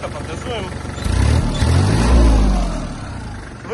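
Kubota GL260 Japanese mini tractor with rear rotary tiller, its diesel engine revved up from a soft idle around one second in, swelling to a loud low roar and easing back down, close by, with someone speaking.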